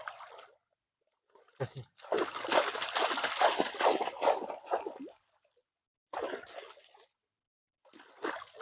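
Cold water splashes over a bather's body in several bursts, loud pouring and splattering separated by silent pauses, close by with no talk over it.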